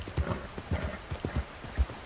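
Horse hooves clip-clop in a video game, a quick run of soft, close thuds in uneven rhythm, with faint game ambience behind.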